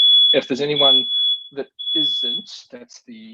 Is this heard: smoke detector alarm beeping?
yes